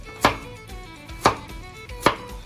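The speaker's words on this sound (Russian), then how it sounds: "Нарезаем морковку." Three sharp knife chops cutting a carrot into cubes on a cutting board, evenly spaced about a second apart, close and crisp with a faint background hum.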